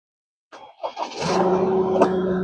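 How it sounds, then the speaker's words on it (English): Engine of a Ford Ranger carrying a Versalift VTL35 bucket boom cranks and catches, settling into a steady idle hum with a brief rev spike near the end, close and fairly loud. "So I will start it."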